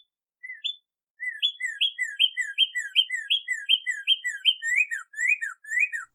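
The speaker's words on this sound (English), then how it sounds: "a cardinal was whooping whistling." Cardinal whistling from an apple tree beside a garden, a bright series of rising slurred whistles repeated rapidly in a steady rhythm, clear and close against silence with no voices.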